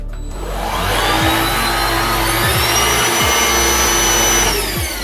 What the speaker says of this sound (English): Now let's try the Black+Decker on its lowest setting as well.